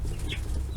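Young chickens of mixed breeds cluck outdoors on their first day outside, soft close clucks over steady low background noise in a brief burst.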